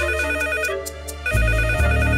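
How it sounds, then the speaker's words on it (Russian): A cartoon telephone rings loudly and steadily in repeated electronic trills, with backing music swelling under it partway through. "Что, больше некому трубку снять?"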